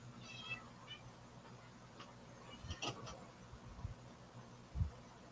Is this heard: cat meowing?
yes